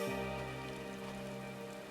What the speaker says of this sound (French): Ça commence un peu à être chiant quand même, cette pluie.